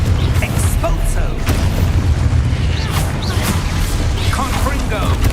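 Expulso explosion spell cast in Hogwarts Legacy, loud rumbling booms and bursts layered over heavy game effects, with a voice shouting over the din.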